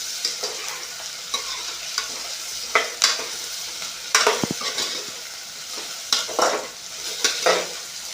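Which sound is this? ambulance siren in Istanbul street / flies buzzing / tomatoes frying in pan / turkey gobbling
tomatoes frying in pan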